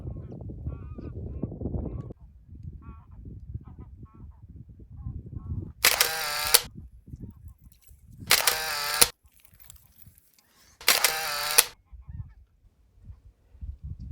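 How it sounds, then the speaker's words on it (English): Geese honk as they pass over an off-grid beach spot, three loud bursts of overlapping calls spaced a few seconds apart, following a low rumble of wind or surf. "Some geese either arriving or departing."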